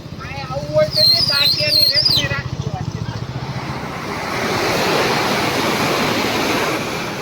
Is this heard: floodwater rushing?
yes